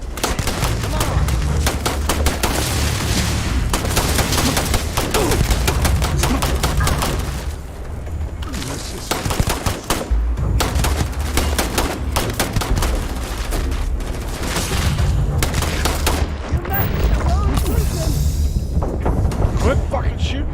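Heavy gunfire in Starfield, dense rapid bursts and loud repeated shots continuing nearly nonstop, close and intense, with shouting voices mixed in.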